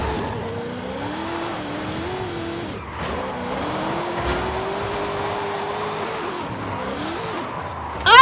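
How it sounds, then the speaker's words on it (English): A stock 1000-horsepower car drifting in Forza Horizon 5 gives a loud, continuous engine drone with its pitch rising and falling through the slides, tire squeal layered over it, and a brief dip near three seconds before it builds again, with no talking. "This is the car I've been using to drift around."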